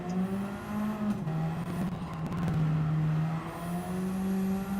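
A four-wheel-drive Porsche road car with DRS in a racing video game holds a steady, droning engine note with slight pitch shifts as it runs at speed, loud and alone throughout.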